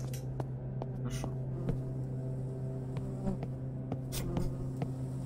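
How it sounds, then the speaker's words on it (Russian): Flies buzz in the video game Close to the Sun, a steady insect drone lasting throughout beneath a low continuous hum, with faint clicks scattered over it. "Да хорош ты мух своих разгонять."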